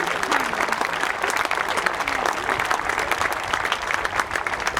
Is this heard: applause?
yes